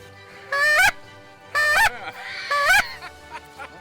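A goose call is blown three times in even succession, each a loud nasal honk of under half a second, out in the field during a goose hunt, with quiet gaps between and no talking.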